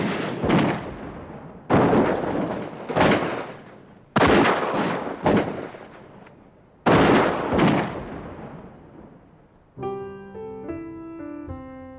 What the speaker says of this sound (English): Some stopped shooting just long enough to cool their overheated rifle barrels with canteens of water.